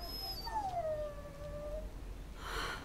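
A dog in the video game Dragon Age Origins lets out a single long whimpering whine that slides downward in pitch, fairly quiet over a low, steady in-game background.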